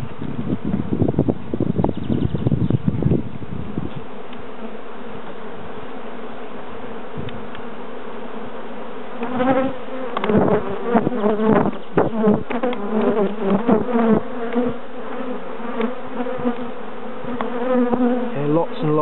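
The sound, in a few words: honeybees buzzing in an open hive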